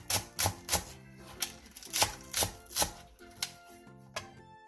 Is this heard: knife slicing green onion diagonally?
yes